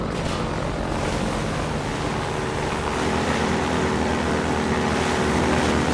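Airboat from the Half-Life 2 Kanal route roaring steadily as it drives over water, a loud continuous engine and fan drone with wash and rush, close and alone without talk.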